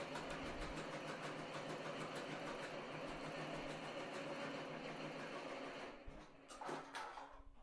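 An embroidery machine stitches a shirt for a sublimation-on-thread project, giving a steady, dense, rapid mechanical whir that holds throughout and then thins out with a few brief clicks near the end; no one talks.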